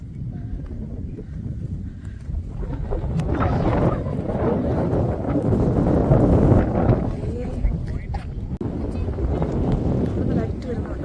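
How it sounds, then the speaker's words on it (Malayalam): Strong wind gusts over an open rock hilltop at Marayoor near Munnar, a constant low roaring buffet on the microphone that swells and eases across the clip, with faint voices mixed in. "ഫോണൊക്കെ പറത്തിക്കൊണ്ട് കാറ്റ്."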